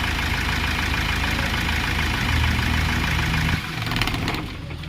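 A Mahindra Scorpio S10 engine idles after an alternator belt change, a loud, close, steady rumble with a faint knock that briefly drops in level near the end before settling again.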